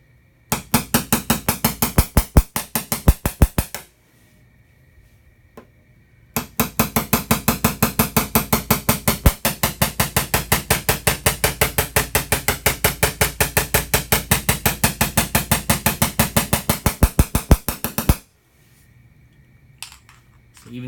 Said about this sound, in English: Even hammering like this, I can actually see